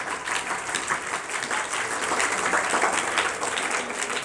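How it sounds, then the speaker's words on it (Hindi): A school audience at an Urdu speech and debate competition claps hard and continuously, a dense even wash of many hands filling the room for the whole stretch without a break. "जोर से तालियां होनी चाहिए।"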